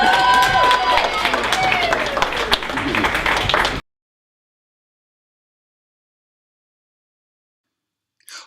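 An audience claps and cheers for about four seconds, a dense burst of hands over crowd noise and a voice, then cuts abruptly to silence.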